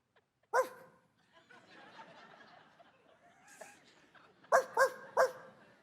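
A man imitating a dog, giving one sharp bark and later a quick burst of three barks, with soft laughter and murmuring from an indoor audience in between.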